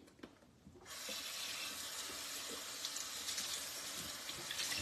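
A kitchen tap runs steadily as a baking mat is rinsed under the water, a continuous close hiss and splash lasting several seconds after a quiet start.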